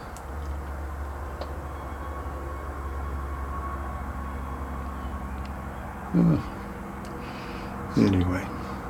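A freight train rolls along the rails between Duluth and Minneapolis, a steady low rumble and hiss heard from aboard, with two short bursts of speech near the end.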